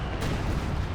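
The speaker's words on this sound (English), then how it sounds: "Good KV-2 shot there." A KV-2 heavy tank's main gun fires in a Company of Heroes 2 battle, a single loud boom with a sharp onset that rolls on into dense, sustained rumbling for the full second.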